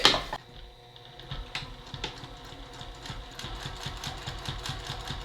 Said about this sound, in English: Now we're ready to sew this closed, and it's a double-sided pocket, but with different fabric.